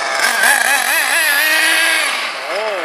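A Rclife LX2 engine-powered RC car runs loud and close, its small engine giving a continuous high, buzzy whine that surges and dips in pitch as the throttle changes.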